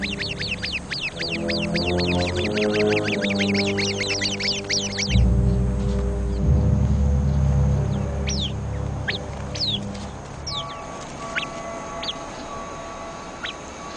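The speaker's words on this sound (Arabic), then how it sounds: "تظهر حية شرسة، يصدر العصفور المناوب الإنذار فورا." A sentinel sparrow calls out in alarm at a fierce snake: rapid, repeated high chirps and trills ring out up close, joined midway by a burst of low rumbling, then sharp isolated chip notes that thin out and fade.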